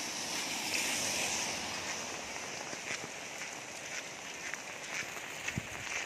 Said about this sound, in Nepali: पानी ठुलो परिरहेको छ।